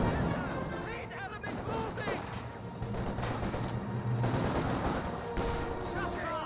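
Gunfire in the real-time strategy game Company of Heroes 2, dense rattling machine-gun and rifle fire with explosions forming a continuous battle din under a commentator's voice.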